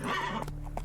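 A horse in The Witcher 3 gives a short, close whinny that breaks into snorting breaths.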